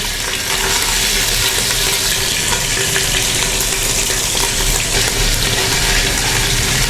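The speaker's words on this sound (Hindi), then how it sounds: "अच्छी तरह आप भून लें इसको, अदरक लहसुन के पेस्ट को।" Ginger garlic paste frying in a pan, a steady loud sizzle with faint stirring, continuing evenly throughout with no voices.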